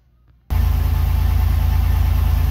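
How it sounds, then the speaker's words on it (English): A car engine cranks over after half a second of near silence and settles at once into a loud, steady, low idle that runs to the end. "Okay, I had to get the engine running."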